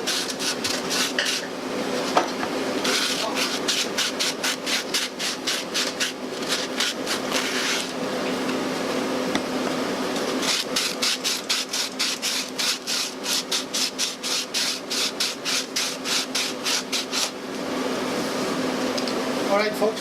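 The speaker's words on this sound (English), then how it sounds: "we're going to use our machines for the remaining of the sanding process" A power sander works over a wooden holiday gift, its abrasive rasping buzz coming in repeated strokes and pulses, loud and close, alongside some talking.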